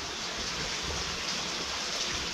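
Heavy rain pouring steadily in a Konkan village during monsoon, a dense, continuous hiss of water close by with no breaks across the clip.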